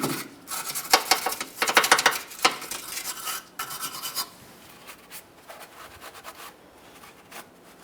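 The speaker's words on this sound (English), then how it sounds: "For this, I'm just using a wire brush and a clean rag." Wire brush scrubbing the rear subframe of a 2007-2017 Jeep Patriot, quick bursts of harsh bristly rasping strokes, loud and close at first, then lighter, more scattered scrubbing.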